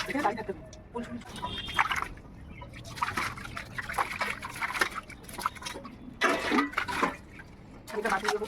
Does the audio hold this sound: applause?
no